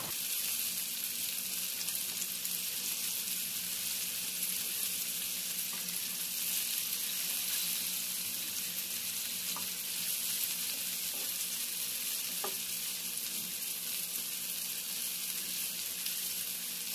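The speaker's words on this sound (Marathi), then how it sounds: "कोलंबी पलटून दोन्ही साईडनी गोल्डन कलर येईपर्यंत फ्राय" Prawns fry on a hot tawa with a steady, even sizzle that runs the whole time, close and moderately quiet, with a few faint clicks from the prawns being turned.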